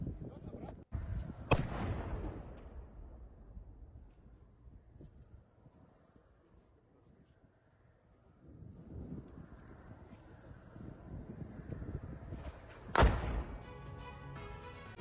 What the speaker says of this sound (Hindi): पहले टैंक फायर करता है और उसके बाद फिर से उधर से जवाबी कार्रवाई की जाती है, जवाबी फायरिंग होती है